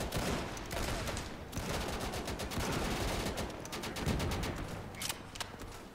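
Battlefield gunfire in the World War II shooter Easy Red II, rapid rifle and machine-gun bursts cracking near and far in an almost continuous fusillade, with no talk.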